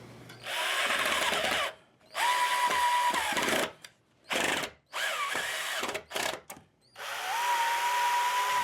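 A power drill drives screws into a small wooden brace on an electric drum kit, making several loud whirring bursts of varying length that rise in pitch, separated by short silences, close up with no talking.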